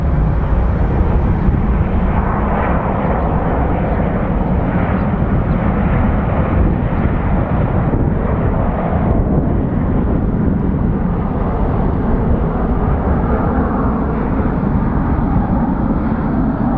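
Loud, steady roar of a jet airliner arriving from San Diego and landing on runway 25 right at Phoenix Sky Harbor, a broad engine rumble sustained throughout with no voices.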